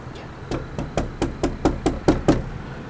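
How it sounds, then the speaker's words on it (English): Nine evenly spaced knuckle knocks on a locked wooden door in an old abandoned train car, close and sharp, with no talking between them. "Knock on it."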